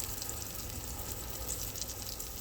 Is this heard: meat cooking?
yes